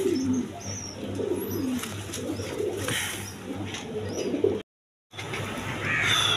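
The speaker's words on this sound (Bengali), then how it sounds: "গররা কবুতর নর" A male Gorra pigeon coos in low, rolling phrases, with other birds and a crow calling in the background. The steady outdoor bird noise runs throughout, apart from a brief drop to silence near the end.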